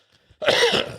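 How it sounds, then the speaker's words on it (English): A single harsh cough breaks into a spluttering fit, loud and close after a near-silent start, with no talking over it. "See, you're coughing and spluttering."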